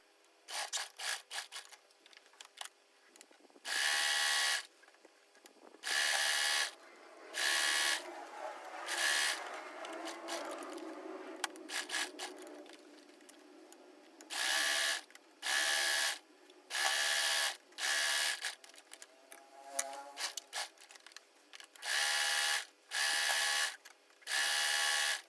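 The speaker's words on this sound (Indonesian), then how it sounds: "Jahit semua karet di ketiga sudut lainnya." A sewing machine stitches elastic onto the corners of a king-size bedsheet, running in a dozen or so short, loud, whirring bursts separated by quiet pauses with faint handling of the fabric.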